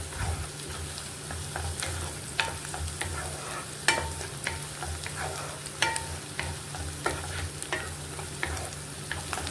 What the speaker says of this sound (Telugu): ఆనియన్స్ కూడా బాగా ఫ్రై అవుతున్నాయి.